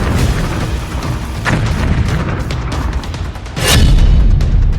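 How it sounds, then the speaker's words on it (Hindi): A bomb blast near Tehran, Iran, heard as a loud, sustained roaring rumble with a heavier surge near the end and no voices. "ईरान में फिर से बम फटा है।"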